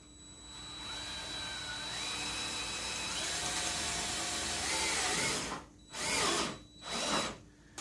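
A power drill drives screws into teardrop camper trim, its close, loud whine climbing in pitch in steps as each screw sinks, then two short separate bursts at the end.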